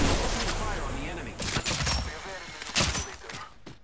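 Bursts of video game gunfire in Apex Legends, sharp volleys sounding at intervals through a busy battle mix, with voices talking over parts of it.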